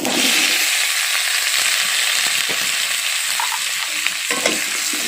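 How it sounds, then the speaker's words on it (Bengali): Eggplant and potato pieces being stirred as they fry in a pan with cumin for a pabda fish curry, a loud, close, steady sizzle broken by scraping and clacking of the spatula, no speech. "দিয়ে একটু নাড়াচাড়া করে নিচ্ছি"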